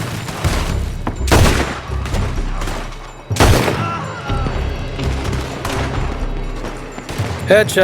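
Loud, close gunfire in Red Dead Redemption 2, with heavy bursts of overlapping shots and booming reports stacked into a sustained firefight, while voices are heard under the shooting.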